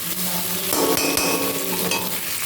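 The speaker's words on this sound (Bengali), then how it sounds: "মাছের তেল কাটা দিয়ে আর একটু ভাজা ভাজা করে নামিয়ে দেবো" Fish-oil chachchori, a vegetable dish cooked with fish oil, frying loudly in a pan: a continuous close sizzle with occasional stirring scrapes and clatters.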